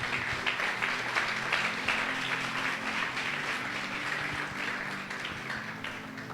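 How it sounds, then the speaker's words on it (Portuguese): A church congregation applauds together, moderately loud and sustained for several seconds, with a low hum underneath and the clapping easing a little toward the end. "Aplauda Jesus"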